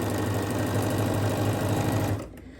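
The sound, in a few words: sewing machine stitching quilt block units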